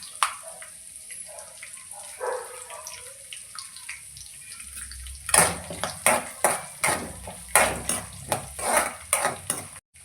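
Cumin, garlic and curry leaves sizzle in a pan, first as a soft frying hiss, then under a quick series of loud metallic scrapes and clinks from a spoon stirring against the pan, close by and without talk.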